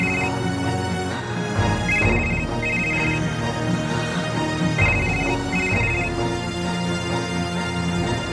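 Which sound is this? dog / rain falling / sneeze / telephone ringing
telephone ringing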